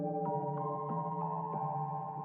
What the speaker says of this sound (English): I'm using this preset called Reverse Box, which has it sounds just like a music box